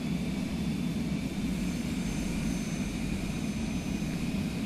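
A propeller airplane engine held at full throttle in Flight Simulator 2020, a steady, loud, unbroken drone with a constant pitch and no talking over it.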